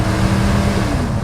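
A 1994 Ford F-150 XLT pickup with a 5.0 V8 engine and 76K miles revs hard during a test drive, a loud, close, continuous engine roar with a rising tone and no talk over it.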